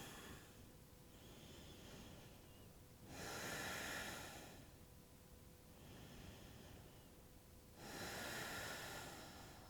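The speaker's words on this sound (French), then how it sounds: "Revenez au souffle, respiration Ujjayi." Slow ujjayi breaths during a yoga flow class, each long audible inhale and exhale rising and falling in a steady cycle, soft, close and airy, with no talking.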